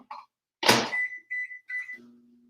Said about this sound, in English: So I'm going to put these in the microwave.